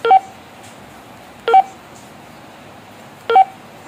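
Three short, evenly spaced keypad beeps from a Motorola GP338 two-way radio, clear and close, separated by quiet gaps.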